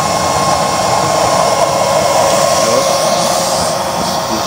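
A 12-volt high-speed blower, run off a power bank, feeds a DIY waste oil stove with a 24-hole nozzle and 3-inch chamber, producing a loud, steady, close-up roaring whoosh that never lets up.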